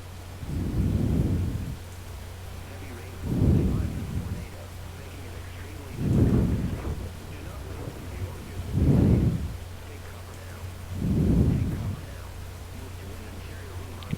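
Steady rain falls through a tornado-producing thunderstorm while deep rolls of thunder rumble five times at regular intervals, each swelling and fading over a couple of seconds.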